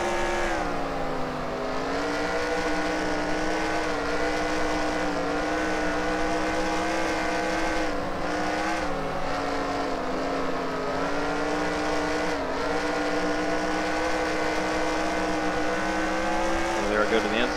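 A race car engine in NASCAR Racing 2003, a modified car on the Eldora dirt track, drones steadily at high revs with small pitch dips as the throttle eases, continuous and close throughout.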